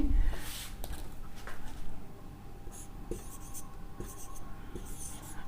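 Chalk or marker scratching across a board during a chemistry lesson on barium chloride solution, a steady run of near strokes and taps with faint background hiss and no talk.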